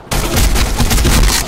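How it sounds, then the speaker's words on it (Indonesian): Sustained burst of automatic gunfire in the online shooter game BlackSquad, loud and close, with rapid shots blurring into a dense roar for over a second. "Tembakan gue jelek."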